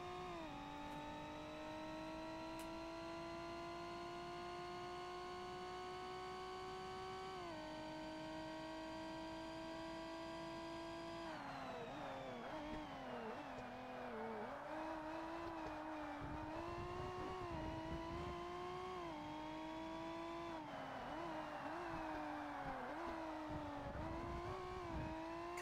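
A GT-class race car engine in the Forza Motorsport video game drones and revs continuously during an endurance race, with steady harmonic tones rising through gears and dropping on shifts, no talk.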